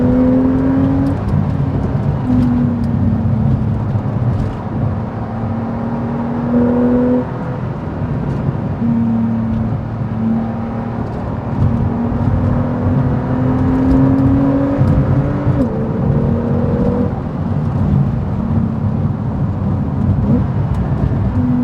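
A 2018 Porsche 911 Carrera S revs hard through its gears from inside the cabin, the engine note climbing in repeated rising sweeps with brief dips at each shift, loud and continuous with no talk.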